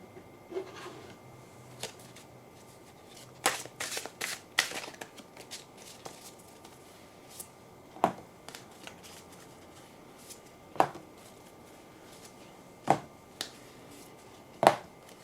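Tarot cards being shuffled by hand: soft riffling and sliding with a dense burst of shuffling near the middle, then several sharp, isolated card snaps and taps spaced a couple of seconds apart, quiet and close.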